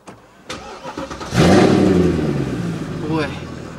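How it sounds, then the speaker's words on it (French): A Mercedes C63 AMG cranks and fires up close by, its engine catching with a loud surge and flare of revs before settling into a deep, rumbling idle, with a second small blip near the end. "je vais démarrer la C63."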